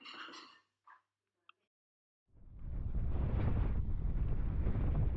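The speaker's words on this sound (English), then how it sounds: "just as it got so windy" After a quiet moment with brief voices, heavy wind buffets the microphone in a loud, continuous low roar at a paragliding launch.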